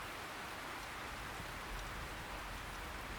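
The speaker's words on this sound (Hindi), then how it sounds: "कितनी बारिश हो रही है?" Steady rain pours down in a dense, even hiss of drops striking surfaces, unbroken throughout, with no voices.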